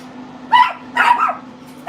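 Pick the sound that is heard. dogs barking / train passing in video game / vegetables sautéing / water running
dogs barking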